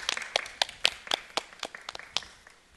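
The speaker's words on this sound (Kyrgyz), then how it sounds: "Кол чабуулар, келиңиз" Scattered, crisp hand claps from a small audience on a Kyrgyz TV entertainment show, a dozen or so distinct sharp claps in an uneven rhythm, thinning out and fading toward the end.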